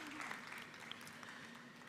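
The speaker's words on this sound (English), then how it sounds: "A round of applause for you." Applause from a banking conference audience, a steady dense wash of clapping throughout, moderately loud with a faint voice underneath.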